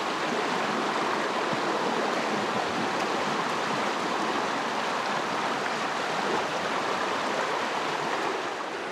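A river stream flows steadily beside a riverside cooking spot in Hulu Langat, a dense, even rush of water close by that runs unbroken throughout with no voices.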